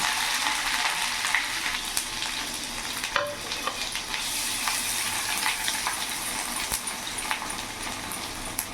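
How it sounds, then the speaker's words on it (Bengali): Dried red chili and grated ginger sizzle steadily in hot oil in a pan, a dense continuous crackle with a few sharp pops and light stirring clinks, close and fairly loud throughout. "ওই তেলের মধ্যে এখানে একটা শুকনো লঙ্কা ফোড়ন দিলাম, আর এখানে গ্রেট করা আদাগুলো দিয়ে দিলাম।"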